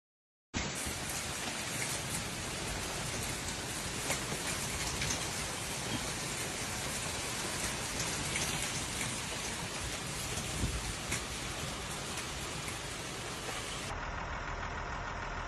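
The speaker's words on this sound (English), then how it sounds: "A sudden massive hailstorm has caused extensive damage across Italy" Heavy rain and hail pound down during a sudden, massive storm in Sicily, Italy, as a dense, steady roar that holds at full strength for the whole stretch and then cuts off abruptly near the end.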